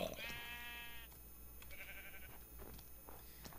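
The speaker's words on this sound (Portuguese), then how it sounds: "Achei uma ovelha." A sheep in Minecraft gives a clear bleat at the start, followed by quieter scattered game sounds and faint further calls.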